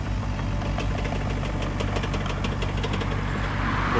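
A SANY SY35U mini excavator's diesel engine runs steadily, a continuous low rumble with a faint knocking pulse and no speech.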